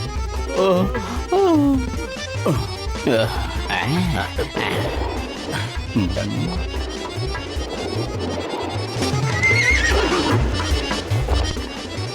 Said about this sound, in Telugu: ఇప్పుడు గుర్రం నవ్వినట్టు వినిపించింది కదా